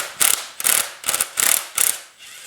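A hand ratchet turning out a motor mount bolt on a Pontiac V8 in a GTO restomod, clicking sharply in five quick, evenly spaced bursts up close, with short pauses between strokes and no talking.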